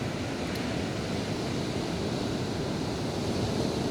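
Ocean waves wash continuously on Wollongong Beach, a broad steady roar of surf close by with no talk over it.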